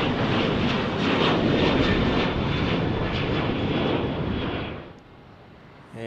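Alaska Airlines jet departing San Jose airport, a loud, broad engine roar that holds steady for several seconds and then fades, with no talk.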